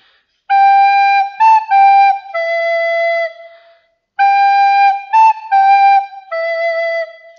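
A flute plays the opening phrase of Silent Night, clear sustained notes in a gentle rocking rhythm, heard twice with a short pause between, solo and close.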